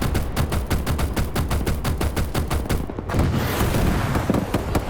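Vehicle-mounted machine gun in a military shooter game, a steady rapid stream of loud, evenly spaced shots with explosive booms rolling in underneath toward the end.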